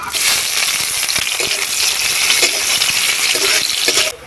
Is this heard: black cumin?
yes